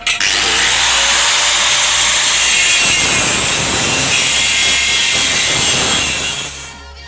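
An angle grinder cuts through material with a loud, steady, harsh whine that holds for about seven seconds before trailing off at the end.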